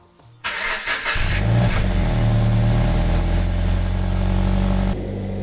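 A Toyota GT86 engine cranks briefly, then catches and settles into a loud, steady idle close by, with a sharp drop in level near the end.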